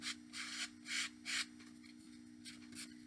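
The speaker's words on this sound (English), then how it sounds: "I'm going to use my card, and I'm just going to scrape" A credit card scraped and dragged across wet paint gives four quiet, rough rubbing strokes in steady rhythm, then two fainter, shorter strokes after a pause, close by over a low steady hum.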